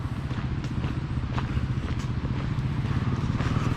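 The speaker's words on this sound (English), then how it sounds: "Motorbikes have taken off down the track." Motorbikes ride off down a bush trail near a rocky pool, heard as a steady, rough low engine drone with some clattering, moderately close and continuous.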